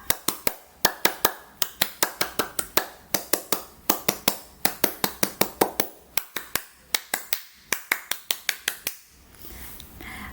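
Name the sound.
scout rhythmic clapping (tepuk pramuka), three times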